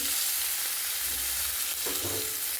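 A tomato fries in oil with a soft, continuous sizzle and a couple of brief stirring scrapes near the end, heard alone without talk.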